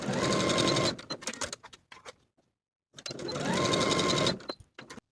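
A sewing machine stitches the side seams of a dress bodice in two short, close bursts of rapid clattering, separated by a pause and small handling clicks.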